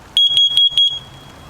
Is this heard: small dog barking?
no